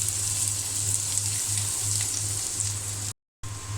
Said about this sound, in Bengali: এখানে যে পেঁয়াজটা ভাজা হচ্ছে